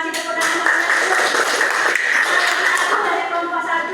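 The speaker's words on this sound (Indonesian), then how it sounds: "Silakan duduk Diana, kasih tepuk tangan" A classroom of students clapping for a student named Diana after her presentation, steady dense applause filling the room throughout with some voices mixed in.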